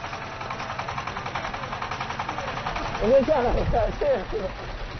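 Tractor engine chugging with a steady rhythmic pulse and rattling vibration during a bumpy ride, close and fairly loud, with a voice speaking over it in the second half.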